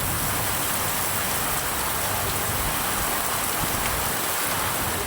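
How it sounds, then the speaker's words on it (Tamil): Heavy rain pouring steadily in Aruppukottai, a dense, loud, unbroken hiss of downpour with no distinct thunder audible. "அருப்புக்கோட்டையில் 1 மணி நேரத்திற்கு மேலாக இடி மின்னலுடன் கனமழை கொட்டி தீர்த்ததால்"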